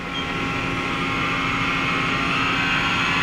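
The live tool on a Mori Seiki NL3000Y CNC turning center runs at 1,100 RPM, making a loud, steady mechanical whir with a tonal drone and a continuous spindle hum that rises slightly over time, with no voices.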